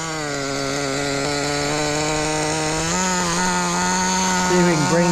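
Budget pro nitro RC car engine running steadily at a loud, buzzy high pitch close up, its tone dipping and wavering briefly near the end as the idle is adjusted.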